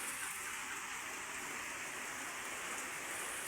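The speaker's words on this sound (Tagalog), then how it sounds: "Ayan, ulan na naman guys" Steady, hissing rainfall pours down evenly, a constant wash of water noise at moderate volume with no voices.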